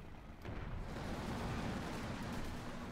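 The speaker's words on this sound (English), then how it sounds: "So many explosions though," Heavy artillery shell explosions rumble in a World War II battle in Company of Heroes 2, a dense, continuous low roar of distant blasts with a sharper onset partway in and no voices.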